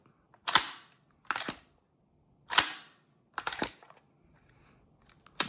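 A GHK HK416A5 airsoft rifle bolt is racked and locked back several times, giving five sharp metallic clacks spaced unevenly, close and crisp against near silence.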